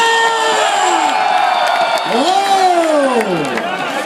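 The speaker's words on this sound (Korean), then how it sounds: "박수 한번 치시다!" Baseball crowd at a post-game interview cheering and shouting loudly, with rising and falling whoops and voices carrying over a dense, continuous roar of applause.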